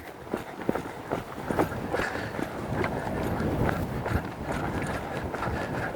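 Horse hooves clip-clopping in a steady rhythm as the horse moves between trot and walk along an arena rail, fairly close and continuous over six seconds, with faint background noise and no clear talk.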